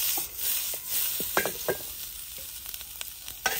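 Green beans sizzle in hot ghee with cumin for a Maharashtrian-style dish, a steady frying hiss with scattered spoon scrapes and clinks against the pan close by.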